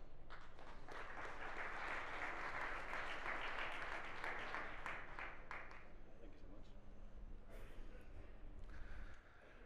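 An audience at a startup competition final applauds steadily, loud and sustained, as a startup is welcomed to the stage; the clapping thins out near the end.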